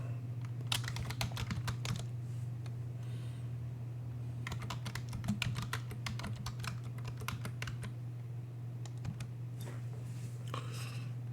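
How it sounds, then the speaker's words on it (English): Password typed on a computer keyboard during Linux system troubleshooting: bursts of rapid, light key clicks with short pauses, close and fairly quiet over a steady low electrical hum. "I'm going to type in the password."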